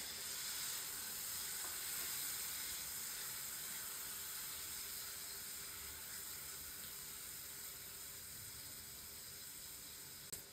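Cubed capsicum and onion frying in a pan for chilli cauliflower, giving a steady, even sizzle with a soft watery hiss that holds throughout, no voices.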